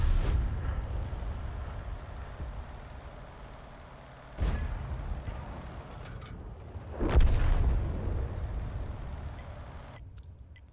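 M40/M43 self-propelled artillery fires in World of Tanks, giving two heavy booms a few seconds apart over a low rumbling engine bed, with the second blast louder and trailing off into a long rolling decay.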